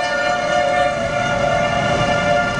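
Tornado warning sirens sound during a severe storm with a funnel cloud nearby, a loud, steady, unbroken tone holding for the whole stretch with no voices.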